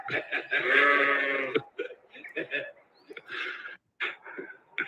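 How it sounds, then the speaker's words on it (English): Sheep bleat loudly and close, one long wavering bleat followed by shorter calls, as a few of them run toward the person, with excited voices and breathing mixed in. "4 sheep running towards me."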